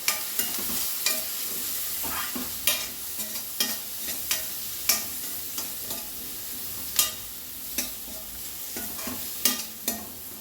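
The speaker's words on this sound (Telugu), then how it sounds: "ఉల్లిపాయలు కొంచెం వేగితే సరిపోతాయి. చూడండి, మంచిగానే వేగిపోయాయి." Chopped onions, garlic and turmeric sizzle steadily in a pan for a cabbage and moong dal curry, with a spoon scraping and stirring in regular close strokes over the constant frying hiss.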